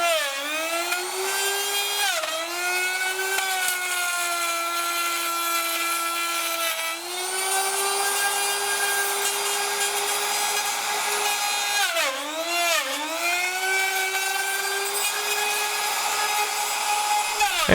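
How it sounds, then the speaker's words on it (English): A Harbor Freight trim router (item 62659) cutting wood trim, a loud, close, high-pitched motor whine held steady, with pitch dips as the bit bites deeper into the wood, no talking. "it is doing a nice job cutting"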